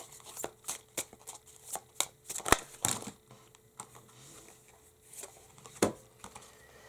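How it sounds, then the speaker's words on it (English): Affirmation cards are shuffled by hand close up in short irregular bursts of riffling and soft slaps, quiet crisp paper flutters separated by brief pauses. "I am going to shuffle these affirmation cards"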